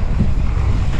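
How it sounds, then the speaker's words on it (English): Wind buffets the microphone at a mountain bike park during a night ride, a steady loud low rumble and roar lasting about a second with no talking. "I think the wind is better on this side of the mountain"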